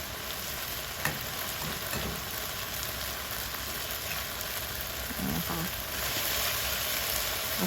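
Onion and tomato stir-fry in a hot pan with a dense, steady sizzle that runs throughout, broken by a few faint scrapes and taps of stirring.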